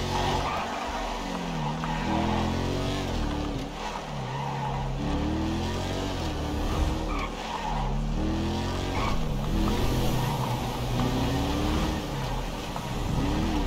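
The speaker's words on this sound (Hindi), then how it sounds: "बहुत सुंदर चल रही है गाड़ी।" Car in GTA 5 driving along a road with a steady engine drone and repeated tire skids and squeals, loud and close throughout, no voices.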